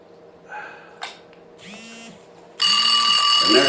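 An alarm sounds in a quiet room: a couple of soft tones and a click, then brief rising electronic beeps, and at the end a loud, continuous bright ringing that stays on at full strength.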